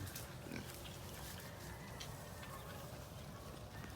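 Soft grunting and snuffling of a boar, a Pampanga native cross, amid a noisy farm background, fairly faint and continuous.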